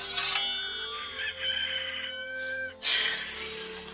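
A rooster crows in one long, loud, drawn-out call with a strained, wavering tone, followed by a short burst of clucking noise at the end.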